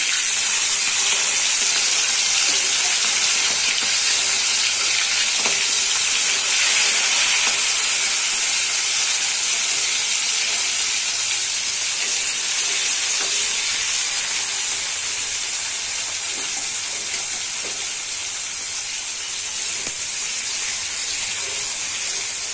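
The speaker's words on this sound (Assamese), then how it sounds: "এতিয়া মিছা মাছখিনি ফ্ৰাই কৰি লম।" Prawns fry in hot mustard oil in a wok-like pan, producing a loud, close, continuous sizzling hiss that holds steady throughout with faint occasional crackles and no speech.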